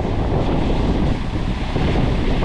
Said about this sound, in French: En gros là j'ai du vent qui arrive de là, qui vient taper sur ma benne.